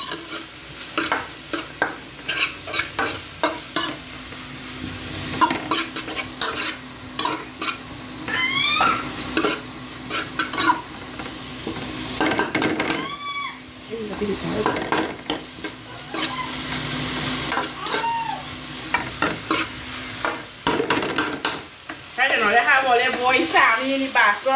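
A single spoon stirs and scrapes through two cooking pots during a fast morning cook, with repeated clinks and sizzling, light talking and brief cat-like meows heard along the way.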